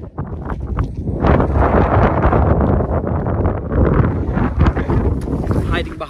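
Strong wind buffeting at a roadside lunch stop beside a motorbike on an Argentine highway, a loud, continuous gusty roar over the microphone throughout.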